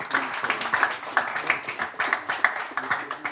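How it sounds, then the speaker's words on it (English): Scattered applause at a pickleball championship press conference honouring a player, a thin ragged patter of hand claps from a modest crowd, moderately loud, with a voice murmuring faintly underneath. "big round of applause for Harsh Mehta"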